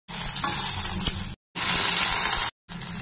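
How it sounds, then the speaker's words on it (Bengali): Asafoetida, cumin seeds, garam masala and bay leaf sizzle in hot oil in a pan, a loud, steady frying hiss heard up close in three bursts separated by short silences. "আর একটা পাত্রে তেল নিয়ে নিয়েছি। হিং, সাদা জিরে, গরম মশলা,"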